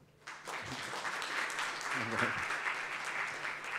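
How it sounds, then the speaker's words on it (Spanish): Applause from a seated conference audience rises quickly and holds steady as a broad wash of clapping, with a voice briefly audible underneath. "Un aplauso para Gilma, por favor."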